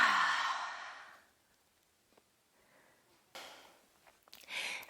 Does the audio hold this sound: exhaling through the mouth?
yes